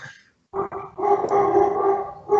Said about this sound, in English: Yeah, Alpha's barking